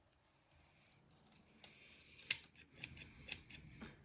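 Scissors cutting out homemade stickers by hand, a few soft, sparse snips with one sharper clip and light handling rustle, close and quiet with no talk.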